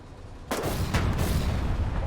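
Gunfire in the war game Foxhole: a sharp, loud blast hits about halfway in, with a couple of quicker shots after it, then rumbling battle noise that keeps going. No voices are heard.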